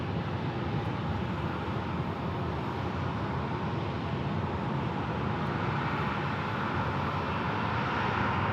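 Jet airliner landing at Sky Harbor Airport, a broad continuous engine roar heard from a distance and holding steady at high volume throughout, no voices.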